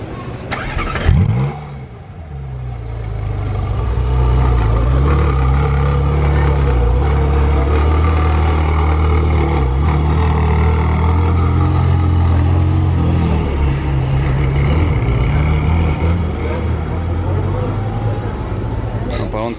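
A Ferrari started by a valet at an event of rare cars settles into a steady, loud low idle close by, with people talking over it throughout.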